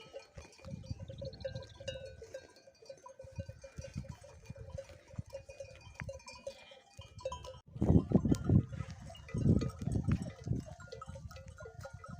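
A flock of sheep and rams on a highland pasture at Çat Yaylası in Konya, with scattered bleats near and far, a tinkling bell, and louder bursts of bleating in the latter half over an open outdoor background.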